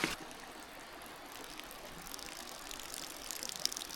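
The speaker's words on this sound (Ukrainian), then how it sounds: "Прийшли коротше, до джерела" A steady, soft rush of water flowing from a mountain spring, continuous with faint splashy flickers throughout.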